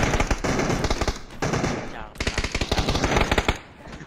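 Rapid automatic gunfire rattles through a PUBG match in loud sustained bursts with short pauses between them, close and dominant, while players talk over it.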